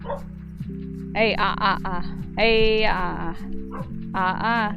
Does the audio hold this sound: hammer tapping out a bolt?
no